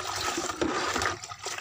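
Coconut water poured from a scoop to dilute a fermentation mix, a steady gushing, splashing pour that runs continuously for under two seconds at close range.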